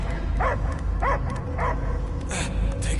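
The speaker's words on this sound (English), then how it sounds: "I hear only barking" A dog barks and yips in repeated short bursts, about five evenly spaced, inside the Guardians of the Galaxy video game, with game ambience and a low rumble under it.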